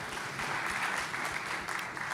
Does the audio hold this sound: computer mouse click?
no